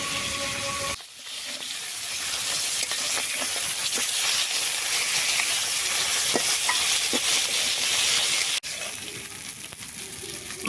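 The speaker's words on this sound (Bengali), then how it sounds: "মাছগুলো ভাজা হয়ে গেছে তুলে দিচ্ছি" Small pond fish fry in hot oil in a pan, giving a continuous crackling sizzle at close range that cuts out briefly twice and then carries on.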